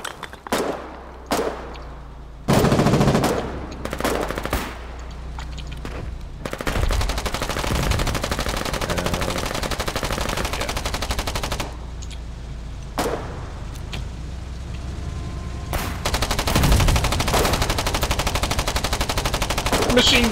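Machine gun fire in the video game Foxhole comes as loud, rapid bursts and sustained strings of shots, separated by brief pauses and scattered single cracks.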